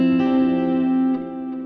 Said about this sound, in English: it is basically like a reverb, then a delay, so that there is that bloom effect